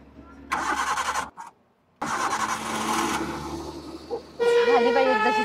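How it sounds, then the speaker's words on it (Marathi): A car engine cranks and catches in bursts, cutting out once before starting again, while people talk close by, a voice rising over the running engine near the end. "झाली तुमची गाडी चालू"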